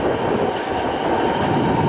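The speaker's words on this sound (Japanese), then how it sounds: "北陸新幹線ですね。" Hokuriku Shinkansen train passing, a steady loud rushing roar with a low rumble, continuous and close for the whole two seconds, no voices.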